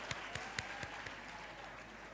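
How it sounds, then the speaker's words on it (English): Audience at a campus community safety programme event applauding, a short burst of a few scattered claps heard faintly at a distance, fading into room noise. "Can we give another round of applause for the signing of the pledge"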